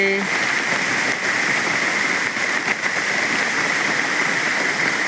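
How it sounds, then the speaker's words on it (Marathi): Steady, heavy rain pours down beside a stream as a dense, continuous hiss, loud and close throughout. "पाऊस आहे जाम"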